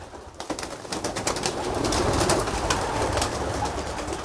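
Pigeons burst out of a loft in the morning in a dense flutter of wingbeats and overlapping coos, busy and close, holding steady throughout.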